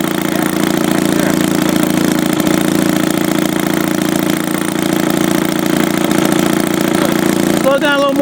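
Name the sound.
rebuilt Maytag 72 engine idling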